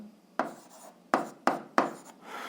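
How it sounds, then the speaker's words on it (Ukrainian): Pen or pencil writing on paper during an 8th-grade algebra exercise: four short scratchy strokes, each starting sharply and fading, close and fairly quiet, with no talk. "Записуємо відповідь, пишемо відповідь."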